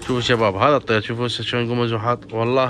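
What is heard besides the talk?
No everyday noise stands out behind the speech.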